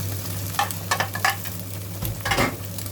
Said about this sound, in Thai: แล้วก็ผัดให้เข้ากัน